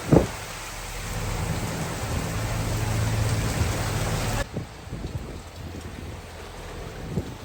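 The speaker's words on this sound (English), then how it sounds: "It rained hard" Hard rain pours at sea on a sailboat during a thunderstorm, a dense steady roar that stays loud for several seconds, then drops suddenly to a lighter patter with scattered drops and gusts.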